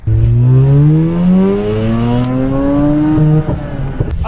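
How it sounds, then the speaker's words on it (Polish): A 1.3-litre, 231-horsepower car engine that can rev to 10,500 rpm screams upward in pitch through a long, loud climb, then drops back and settles near the end. "A silnik ten potrafił się kręcić nawet do 10 500 obrotów na minutę."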